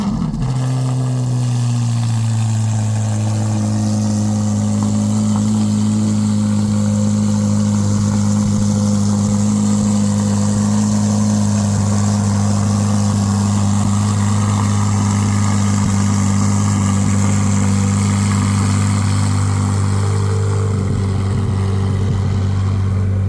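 A 2023 Chevrolet Corvette C8 Z06 with the 3LZ package sits idling without the valved exhaust, giving a loud, close, steady low rumble that holds evenly, with a slight shift in pitch partway through.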